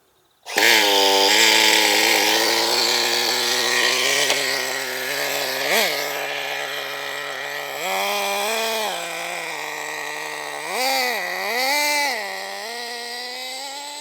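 Nitro engine of an RC10GT retro RC truck running loudly and steadily close by, a buzzing two-stroke whine with several brief revs and throttle blips throughout.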